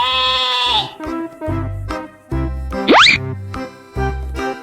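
Sheep and lamb bleat in a farm setting, a few wavering harmonic cries in succession with short gaps, loud and close, with no talking over them.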